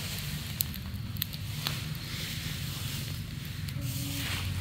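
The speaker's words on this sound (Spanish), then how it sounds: "Hoy sí arde la basura." Garbage burning in an outdoor fire gives off a steady low roar with sparse crackles and pops throughout, loud and close, with no one talking.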